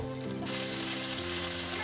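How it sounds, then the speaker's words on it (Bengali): Chicken breast pieces coated in salt, pepper and cornflour frying in oil, a loud steady close sizzle that swells and continues without pause. "লবণ এবং কিছু কর্নফ্লাওয়ার মিশিয়ে তেলের মধ্যে এটা ভেজে নিব"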